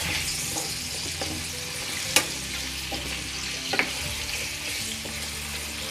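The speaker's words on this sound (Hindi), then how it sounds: "और इसको अच्छे से हम सोटी कर लेंगे" Potatoes and onions being sautéed in a pan for a dry aloo pyaaz sabzi: a steady sizzle runs throughout, with a few sharp clinks from a spoon stirring against the pan.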